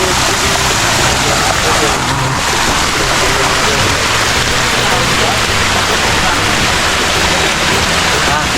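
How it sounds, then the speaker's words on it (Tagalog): Water pouring steadily over the small falls at Back door Falls in Pasacao, Camarines Sur, a loud, dense rushing wash that fills the whole clip without a break. "Ito yung isang falls na maliit."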